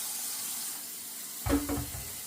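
Hot tap water runs into a sink to rinse a large batch of spinach, a short splashing burst of filling water rising after a faint hiss of room noise.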